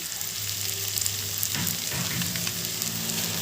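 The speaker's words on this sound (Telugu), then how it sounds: "కారం వేసినాక ఒక నిమిషం పాటు అలా మసలివ్వండి" Chili powder sizzles and fries in hot oil in a pan for a spicy egg and garlic curry, a continuous close crackle with a few brief stirring scrapes midway.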